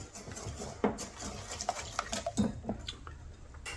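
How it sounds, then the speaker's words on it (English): Four whole eggs are whisked into brownie batter in a bowl, heard as faint, uneven clinks and taps of the whisk against the bowl, with no voices. "There we go, added 4 eggs. Mix that in."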